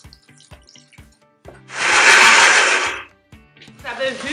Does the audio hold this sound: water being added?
yes